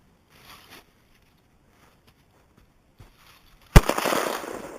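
A single loud shotgun blast fired at a skeet target outdoors at a range lands sharply after near-silence, followed by a ringing, echoing decay.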